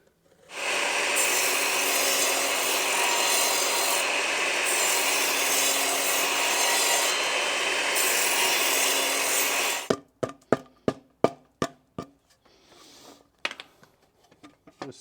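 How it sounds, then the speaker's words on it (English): A power saw cuts steadily through wood around bolts and brackets in a garage workshop for about nine seconds, loud and close, then falls into a run of sharp knocks and taps. "Working with wood and metal, we've got to cut around bolts and brackets."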